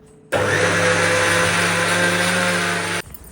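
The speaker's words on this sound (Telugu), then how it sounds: "రైస్ తీసుకొని ఇలా మిక్సీ జార్లోకి వేసుకొని పౌడర్గా చేసుకోండి" A mixer grinder powdering rice whirs loudly and steadily for about three seconds, starting abruptly and cutting off just as suddenly.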